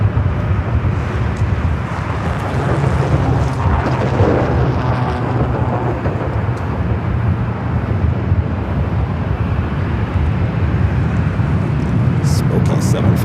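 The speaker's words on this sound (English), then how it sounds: "Smoky 757 now rolling down to 24 left." An old ex-TWA Boeing 757 rolling down runway 24 left at LAX, a loud, sustained low jet roar with rumble, heard from a distance with a voice talking over it.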